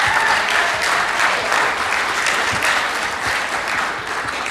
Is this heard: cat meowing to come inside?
no